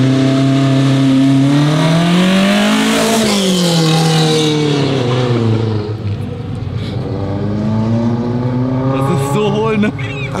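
A British car accelerating hard, the engine revving and climbing in pitch, dropping, then climbing again, loud and close, with a person talking over it.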